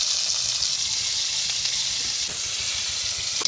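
Mango and tomato with salt and turmeric sizzling in a pan while being stirred, a continuous close hiss with light scraping, no talking.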